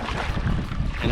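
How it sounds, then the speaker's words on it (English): Strong wind buffets the microphone while kayaking, a brief loud roaring rumble with no voices. "So it gets all nasty and windy."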